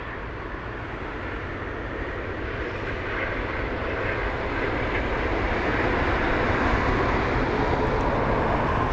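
A British Airways Airbus A320-200 on final approach into London Heathrow, a steady broadband jet roar that slowly grows louder as it nears, with no talking.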